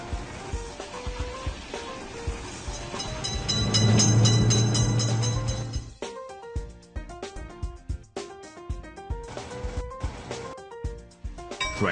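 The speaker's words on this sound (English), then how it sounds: "Attention! Train is coming!" In the video game Railroad Crossing, a train rumbles loudly through a crossing and fades over about six seconds. Game music with rhythmic notes and beeps runs under it and carries on alone afterward.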